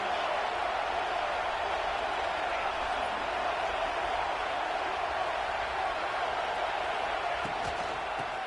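A stadium crowd roars in a college football video game, a steady, loud wash of cheering and noise that sustains without a break throughout.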